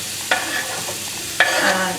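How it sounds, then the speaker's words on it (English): Onions sizzling gently in warm oil while being stirred, a soft continuous fry with two sharper scraping stirs of the utensil in the pan, close and clear with no talk. "The oil's warm but not too hot, so there's a small sizzle, but you don't want anything scorching."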